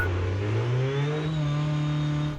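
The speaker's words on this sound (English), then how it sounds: "it can get noisy in that Dakar car with the petrol engine running" A petrol-engined Dakar rally car runs loud and close, its engine note climbing steadily as it revs, with a continuous droning roar and rising harmonics throughout.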